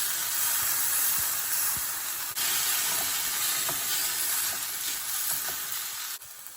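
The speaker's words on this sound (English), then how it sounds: "I added a whole shredded fresh turmeric and a handful of curry leaves, about 10 or so, and I'm frying it lightly" Shredded fresh turmeric and about ten curry leaves fry lightly in a pan with a steady, close sizzle and hiss, broken by a few soft stirring clicks and scrapes.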